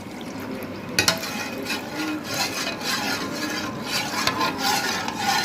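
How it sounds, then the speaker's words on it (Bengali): A utensil stirring milk mixed with caramel in a pan, a continuous scraping, rubbing texture with a sharp clack near the start, steady and close, with no talking. "এখন এই দুধটা নেড়ে চেড়ে ভালো করে মিশিয়ে নিব ক্যারামেলের সঙ্গে"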